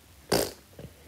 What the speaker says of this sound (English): that kind of fart.